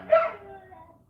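Indoors, a dog behind a closed door gives a single short, moderately loud yelp that fades quickly to quiet.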